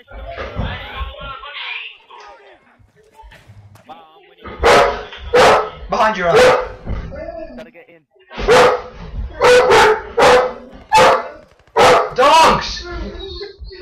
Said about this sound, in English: Bad. Bad dogs.